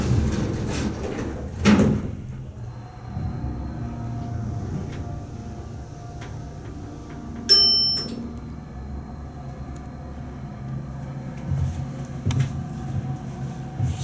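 A Niagara hydraulic elevator in Buffalo, New York, hums with a low, steady motor drone, joined by a few thumps and clunks and one short high beep or chime partway through.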